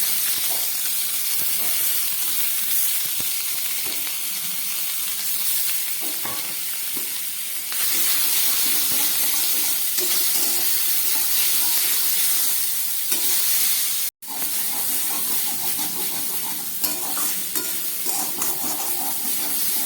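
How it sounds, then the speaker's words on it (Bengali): Boiled banana flower frying with ground whole spices in a pan for a vegetarian Bengali mocha curry, a steady close sizzle and hiss with occasional stirring scrapes, broken by one brief silent gap. "মশলা দিয়ে মোচাটা অনেকটা ভাজা হয়ে গেল।"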